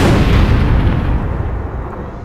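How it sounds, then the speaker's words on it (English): A loud, deep explosion in the video game APB Reloaded booms and rumbles, its low roar slowly fading over a couple of seconds. "I heard an explosion."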